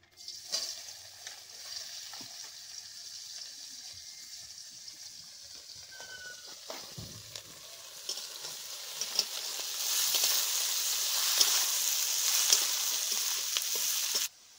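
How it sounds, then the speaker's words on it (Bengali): Onions and green chillies sizzle in a pan of hot oil for a fish curry. The steady frying hiss swells louder over time, with occasional stirring scrapes, and no voices are heard. "এবার পেঁয়াজ আর কাঁচা লঙ্কাগুলো দিয়ে দিচ্ছি।"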